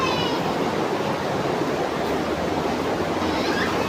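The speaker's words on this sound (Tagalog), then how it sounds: "Nag-uulan na naman. Malakas yung ulan." Heavy rain pours down in a steady, dense hiss, loud and unbroken throughout with no distinct drops or pauses.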